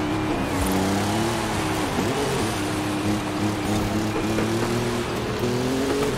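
Engine of a rival car closing in right behind during a Forza Horizon 5 race with a Lancer Evo, a loud sustained engine drone with rising and falling pitch mixed over road and tire noise, no talk.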